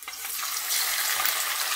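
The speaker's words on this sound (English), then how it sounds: "my oil is hot, so I am going to put my fish to fry" Red snapper hits hot oil in a Jamaican kitchen and fries with a bright, close, steady sizzle and crackle that swells after the first moment.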